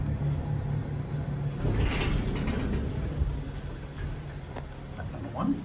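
A vintage Westinghouse elevator door slides along its track at The Alexander building in Lakewood, Ohio, making a close, continuous mechanical rumble that swells as the door moves.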